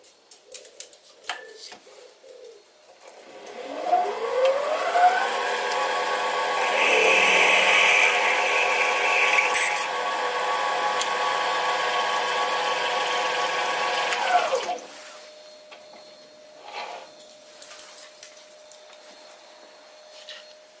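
A mini lathe motor ramps up to a steady whine, a 5mm drill bit cuts with harsh scraping noise, then the machine spins down; faint knocks follow.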